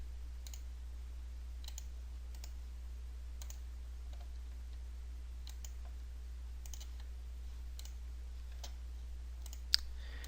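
Computer mouse clicks during CAD work, faint and sparse single taps spread over a steady low electrical hum, with no talk.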